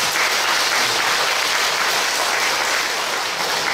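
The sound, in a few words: audience applause of encouragement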